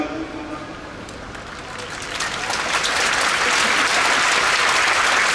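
A stadium crowd of Hiroshima Carp fans applauds at a season-final ceremony as the manager Sasaoka announces his resignation. The clapping swells from moderate to a loud, sustained roar of dense applause.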